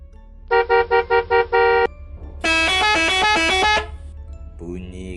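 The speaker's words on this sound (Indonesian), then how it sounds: "Bunyi klakson bus tiba-tiba membuyarkan kantukku" Five quick, loud horn toots close by, then one long blaring honk from a bus, with a brief voice at the end.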